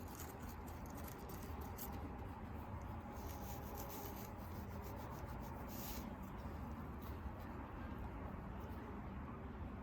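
A tool scratching and scoring the surface of a clay coil vessel, a continuous close rasping rub that stays steady and fairly quiet throughout.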